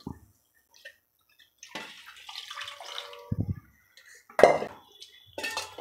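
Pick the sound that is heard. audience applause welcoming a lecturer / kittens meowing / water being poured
water being poured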